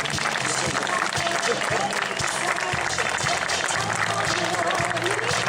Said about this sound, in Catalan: Vinga, aquest aplaudiment molt fort.